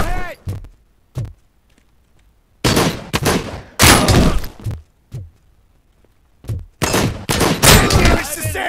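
Gunfire from the Robocop Rogue City video game comes as loud, close bursts of shots separated by short quiet gaps, with several shots packed together near the end, some ringing metallic tails, and a voice calling out amid the shooting.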